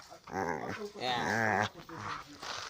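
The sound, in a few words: dogs playing and growling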